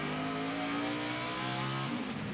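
Onboard NASCAR Nationwide car at Phoenix in 2010 after a big wreck: a loud, sustained engine drone that rises steadily, then dips and changes near the end, with no voices over it.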